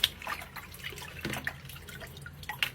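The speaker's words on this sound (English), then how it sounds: "so I'll wash my leaves up." Leaves rinsed in collected rainwater during a power outage in Linden, Guyana, with light drips and splashes of water scattered irregularly through a quiet, close setting.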